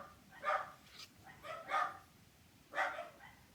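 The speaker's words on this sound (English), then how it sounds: "I'm going to have to close the windows because those dogs are setting mine off." Dogs bark outside in a few loud bursts, an opening bark followed by two more spaced volleys, somewhat distant against a quiet background.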